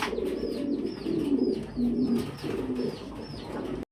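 Fancy pigeons at a seller's loft coo continuously in low, rolling tones, several birds overlapping close by, with a few faint high chirps above and no voices.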